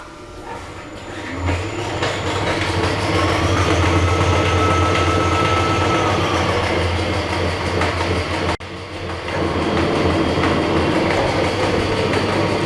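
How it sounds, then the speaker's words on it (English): A milling machine runs steadily with its clutch dragging, being cold and unused for a long time, giving a loud continuous mechanical drone with a low hum and a brief dip partway through. "Oh, clutch is dragging quite a bit, look."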